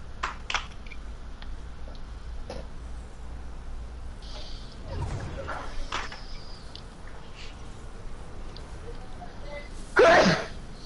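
One sharp, loud sneeze near the end, preceded by scattered clicks and brief throat noises against a quiet background.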